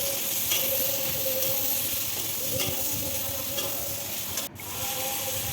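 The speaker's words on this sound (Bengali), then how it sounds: "আমটাকে একটু নাড়াচাড়া করতে হবে, একটু ভাজা ভাজা হোক" Mango pieces with turmeric being stirred and fried in a pan for a sweet, sour and spicy pickle, giving a steady close sizzle with faint scraping stirs throughout.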